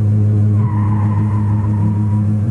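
A car braking hard with its tires skidding during a remote brake attack demonstration, a loud, sustained squeal over a steady engine drone.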